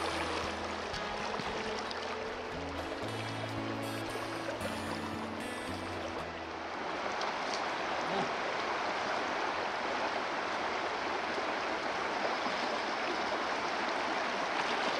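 Prairie Creek flows in a steady, loud rush of water close by. Low tonal music plays over the start, then the water continues alone.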